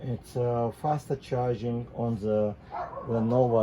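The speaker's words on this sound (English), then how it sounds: "Sorry about the dogs. It's the neighbor's dogs." The neighbor's dogs bark in repeated loud bursts with short gaps, overlapping someone talking nearby.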